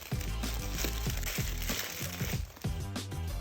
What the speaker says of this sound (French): On va tout de suite le déballer.